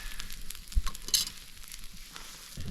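Partridge frying in butter in a pan over an outdoor campfire, a steady close sizzle with a couple of sharp pops and faint stirring knocks, no talking.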